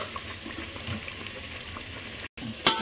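Onion, ginger-garlic-coriander paste and green chillies frying in oil for chicken biryani, a steady close sizzle with soft crackles throughout, briefly cut out before a sharp spatter near the end.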